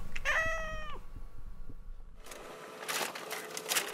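Several cats meow in quick succession, loud and close, followed by a burst of clattering household noise; no talking.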